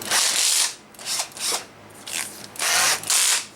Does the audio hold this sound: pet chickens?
no